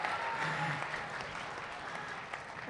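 A seated audience at a comic poetry gathering in Jalore gives a brief, soft round of clapping, an even patter heard from some distance for a few seconds.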